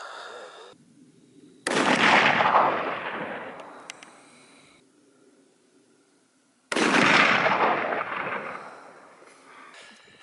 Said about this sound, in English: Just did four shots from 100 yards